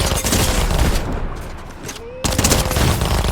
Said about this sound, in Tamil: கொஞ்சம் சவுண்டு கம்மி பண்ணு, ரொம்ப புல்லட் சவுண்ட் அதிகமாக இருக்கு